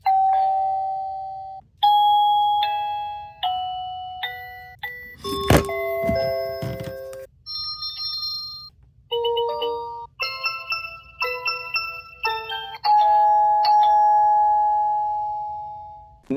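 A series of electronic doorbell chimes and ding-dong melodies from a Tapo D225 video doorbell, each short tune ringing out clearly in turn, with one brief clattering burst midway.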